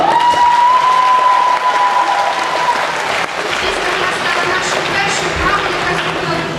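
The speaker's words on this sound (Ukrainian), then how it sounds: "Дійсно, сьогодні заслуговує на ці аплодисменти." Audience applause at a folk dance ensemble concert, a steady dense clapping that fills the hall for several seconds at full strength, with faint crowd noise beneath.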